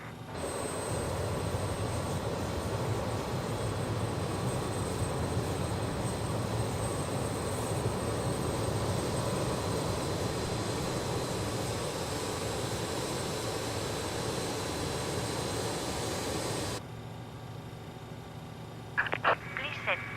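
Engine spooling on an RJ Professional jet in Microsoft Flight Simulator 2020, a steady loud roar with a thin high whine that cuts off abruptly near the end, followed by faint chirps.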